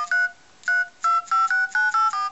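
An HTC Hero phone dials a number, beeping out seven or eight quick, clear DTMF tones in an uneven rhythm, each a short bright two-note chirp with brief silences between them.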